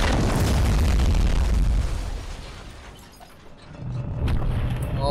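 A loud explosion blast from the Skibidi Toilet animation, a heavy booming roar that fades over a few seconds and is followed by a quieter rumble.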